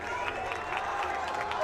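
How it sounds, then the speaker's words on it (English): A football crowd at a college game cheers and applauds in a steady, continuous roar, with a distant voice running over it. "the crowd starting to get into it"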